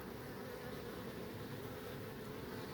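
Honeybees buzz around a hive holding a young queen, a steady, dense and faint drone without pauses or speech.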